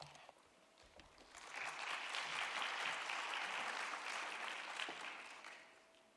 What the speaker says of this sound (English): A round of applause as she comes on stage and introduces her panel.